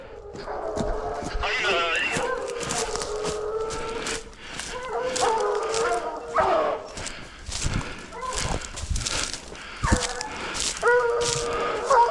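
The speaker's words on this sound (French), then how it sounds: "Ouais, les chiens ils sont fermes" Several wild boar hunting dogs bark and bay repeatedly in the near distance among pines, overlapping one another, while people talk and call out over them.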